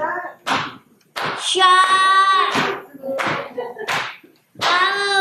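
Rhythmic hand clapping from a group joins singing at a memorial service, sharp claps falling between and under sung phrases while voices carry the melody.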